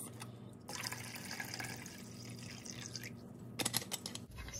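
Water poured into a cooking pot while preparing firm agar, a steady close splashing stream running most of the clip, with brief louder splashes near the end.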